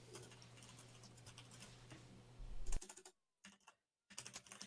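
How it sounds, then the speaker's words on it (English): Rapid clacking on a computer keyboard, a dense run of key presses over a steady hum, then brief silence before a few more bursts of typing. "This keyboard does seem to make me sound angry. And it's just a clackety clack."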